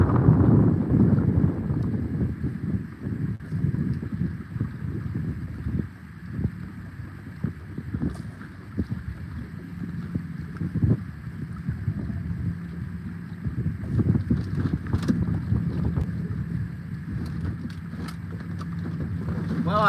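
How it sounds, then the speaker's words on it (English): Strong wind buffets the microphone on a riverbank below the Ohio River dam, a continuous low rumbling roar with gusty swells throughout and no clear talk. "I know that wind's bad."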